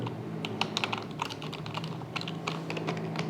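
HTML code being typed on a computer keyboard, rapid close key clicks in irregular bursts over a low steady hum, with no voice over it.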